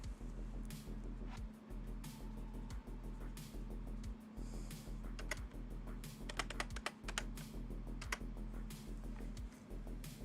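Rapid, uneven clicking of computer keyboard keys goes on steadily, with bursts of quick keystrokes and brief pauses over a constant low electrical hum and room noise.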